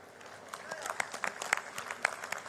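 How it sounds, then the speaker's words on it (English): Scattered applause from an audience at a racing awards night during a Hall of Fame induction, with individual sharp claps standing out above a softer bed of clapping and murmuring voices. "please join me in applauding Cyrus Madan on his induction into the Hall o"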